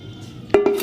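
Cubes of raw mango dropped into a cooking pot for a sweet chutney, giving two sharp near clinks about a tenth of a second apart against quiet room hiss, with no talking.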